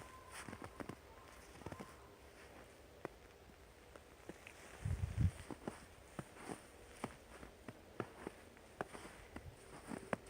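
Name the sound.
footsteps creaking on first fresh snow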